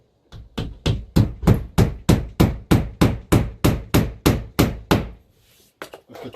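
A hammer tacks plasterboard in place in a garage with about fifteen sharp, evenly spaced, close blows, a short pause, then two quicker taps.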